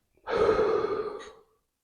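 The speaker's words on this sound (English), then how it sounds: "Breathe in. Breathe out." One slow, deep breath is drawn and let out, close and clear, lasting about a second against silence.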